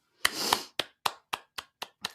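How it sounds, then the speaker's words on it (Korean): At a church prayer meeting, a short cluster of clapping gives way to a run of about seven sharp, evenly spaced claps, close and crisp with clear gaps between each. "우리 서로 격려하는 박수 한번 하겠으면 좋겠습니다"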